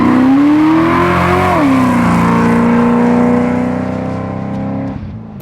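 A 650 hp big-block 1971 Plymouth Road Runner muscle car revs loud and close, its engine note rising, dipping and settling into a steady throaty rumble before cutting off near the end.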